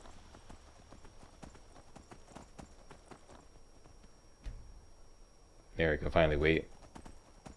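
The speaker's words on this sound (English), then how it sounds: "So I'm just gonna have to canter along here." Horse hooves clip-clopping at a canter in the video game Skyrim, a soft rhythmic beat under a voice, followed near the end by a loud burst of sound.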